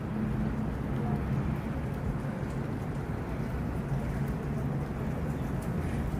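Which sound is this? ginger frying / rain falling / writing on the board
rain falling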